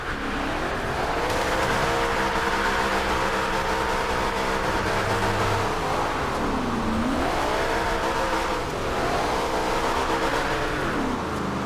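A 1975 Ford Bronco Ranger drifts with its engine revving hard, loud and continuous, the pitch swooping up and down with throttle changes while tires scrub and squeal across the surface.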